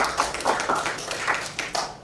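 Scattered applause from a small classroom group, a few sharp claps close by forming a brief, uneven patter that lasts about two seconds.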